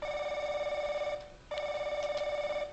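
An old telephone rings in the horror video game Crooked Man, with a steady electronic trill sounding in two long bursts separated by a short gap, loud and close with no talk over it.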